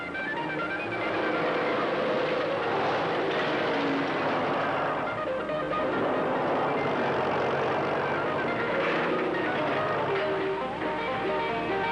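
A Walters four-wheel drive snowplow truck ballasted with cement blocks drives through the snow on Tug Hill, its engine and plowing roar loud and continuous from close by, with no talking.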